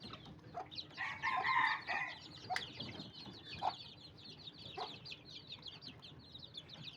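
Domestic chickens and young roosters in a dim cage inside a tin shed cluck and call repeatedly, with a louder burst of squawking early on over a steady background of soft clucks.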